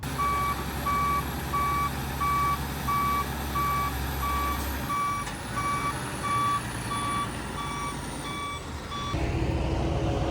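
A concrete truck stuck at a pour for a 40x80 metal building sounds a steady, evenly spaced reversing beep for about nine seconds over a rumbling diesel idle and site noise, before a louder engine surge near the end.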